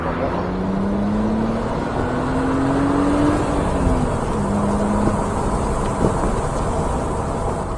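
A BMW Z3 2.8i engine drones steadily and rises in pitch as it accelerates, a continuous rumble from inside the car with a faint voice underneath.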